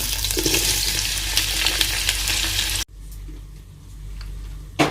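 Around a kilogram of onions hitting hot oil for chicken biryani, a loud, dense crackling sizzle that abruptly drops to a quieter, softer frying hiss partway through, ending with a brief clatter.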